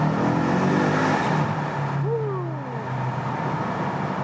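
BMW V8 engine, from an M5 or M550i, pulling hard after a downshift inside a road tunnel: a loud, sustained roar with a rising rev sweep partway through, echoing, with no talk over it.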